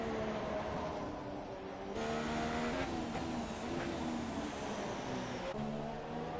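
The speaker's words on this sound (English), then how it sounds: "Cars making their way out for their qualifying laps." F1 2017 race cars on PS4 head out of the pits at Interlagos for qualifying laps, a dense, continuous engine drone with rising and shifting revs from several cars, steady and fairly loud.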